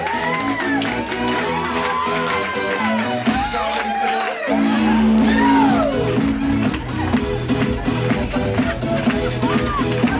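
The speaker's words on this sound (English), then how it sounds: "Make some noise for Lisa and Scott!" A crowd cheers, whoops and shouts for the grand entrance of Lisa and Scott, a loud, dense roar that holds for the whole stretch, with an announcer's voice calling out over it.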